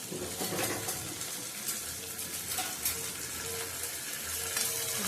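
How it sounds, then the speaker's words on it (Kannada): Onions frying in plenty of oil for a brinjal and chana sambar dish, a steady broadband sizzle and crackle running throughout, close and continuous with no talk. "ಈರುಳ್ಳಿ ಚೆನ್ನಾಗಿ ಫ್ರೈ ಮಾಡ್ಕೊಳ್ತಾ ಇದ್ದೀನಿ ನಾನು"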